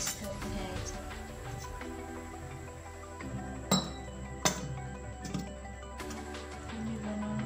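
A spoon mixes a rice-flour breakfast batter in a bowl, making a series of irregular bright clinks against the rim, several of them sharper and louder, over a faint background hum.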